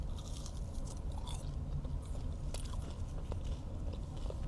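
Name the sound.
biting and chewing Raising Cane's fries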